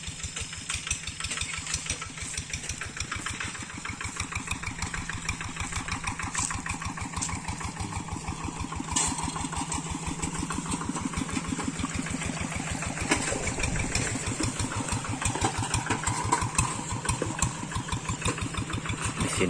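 A tractor engine chugs steadily and loudly while driving over a rocky village road, its regular mid-pitched pulsing continuous throughout with a brief dip near the end.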